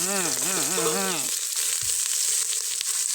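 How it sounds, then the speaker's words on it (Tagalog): Onion sautéing in a hot pan for a home-cooked mud crab dish, a steady broadband sizzle that takes over after a brief stretch of talking at the start and carries on loud and close. "Igisa na natin."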